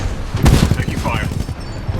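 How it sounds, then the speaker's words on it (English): Gunfire in the video game Titanfall 2 during a fight with a Militia Titan, a loud rattling burst with heavy booms, mixed with game voices. "Taking fire."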